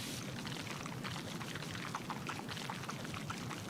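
Continuous hiss of a pressure washer's water jet in PowerWash Simulator, a steady broadband spray with faint droplet patter, close and even throughout with no speech.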